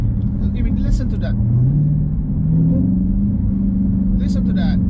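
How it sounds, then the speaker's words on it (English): A Dodge Hellcat Widebody with a supercharger drops one gear. The engine gives a deep droning rumble that rises in pitch, with a faint supercharger whine on top, and someone talks over it. "Just the downshift. That's one gear downshift. Makes that sound. A little whine of the supercharger."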